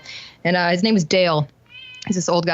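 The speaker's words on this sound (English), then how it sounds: "that's my cat meowing" A pet cat meows in short tonal calls behind someone speaking close by in a home setting, the cries rising through pauses between his words.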